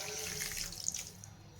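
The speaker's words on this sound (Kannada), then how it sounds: "ನಾನು ನೀರು ಹಾಕ್ತೀನಿ" Water poured into sugar in a pot for Mysore pak syrup, a brief soft splashing stream, faint and alone.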